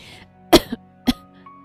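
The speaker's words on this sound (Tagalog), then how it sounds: "Umubo siya na may kasamang dugo." A few short, sharp coughs close by, two main bursts with a softer one between, in an otherwise quiet space.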